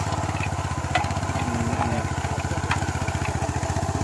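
Modified plough tractor built for dry rice fields running with a steady, fast-pulsing mid-pitched engine chug and mechanical clatter, loud and close throughout.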